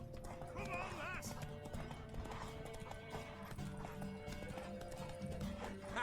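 In Witcher 3, a horse gallops with a rapid, continuous clip-clop of hooves, and voices talk over the hoofbeats throughout.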